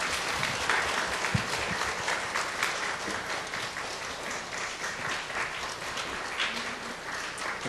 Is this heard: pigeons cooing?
no